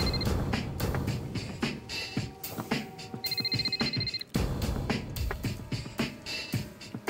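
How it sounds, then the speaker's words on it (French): A telephone rings in a busy, dense mix, with repeated ring bursts partly masked by other steady sound throughout. "le téléphone de Paolo sonna"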